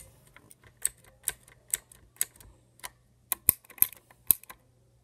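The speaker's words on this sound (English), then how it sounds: "recently I got a new mechanical keyboard" New mechanical keyboard being typed on, with a sparse, uneven run of crisp clicking keystrokes close to the microphone, a few louder sharp clacks near the end and no talking.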